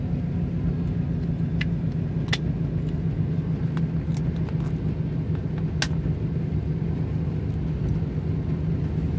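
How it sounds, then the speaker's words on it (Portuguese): A heavy truck coasts in neutral with its gearbox still turning while it moves through narrow streets in Rio Grande. A steady, continuous low rumble holds for the whole stretch, with no voices over it. "O caminhão fica no neutro, mas a caixa fica em funcionamento."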